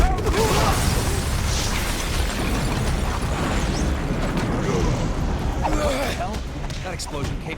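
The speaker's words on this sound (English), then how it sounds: "That explosion came from the shower room." An explosion rumbles from a shower room in a Watchmen video game, a dense, sustained low roar and crackle filling the whole stretch with steady loudness, some voice-like sounds mixed in.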